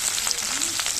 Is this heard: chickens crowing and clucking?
no